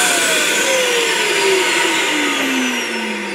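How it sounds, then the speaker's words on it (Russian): Household vacuum cleaner, used as suction for a homemade induction furnace setup for casting aluminium, winding down after being switched off, its loud steady whine sliding slowly downward in pitch over a few seconds. "Выключаю пылесос."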